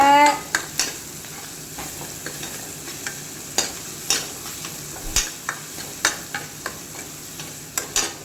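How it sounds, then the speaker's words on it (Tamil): Masala with onions and fennel seeds sautéing in a pan for chicken curry at a home cook's family gathering, a steady low sizzle under repeated sharp scrapes and taps of a spoon against the pan, close and clear. "எல்லாம் போட்டு வதக்குன்னு வதக்குறாங்க"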